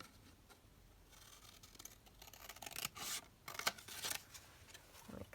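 Scissors trimming paper for a junk journal page: a few quiet, close snips and rustling paper rubs in a short irregular cluster, faint against a soft background.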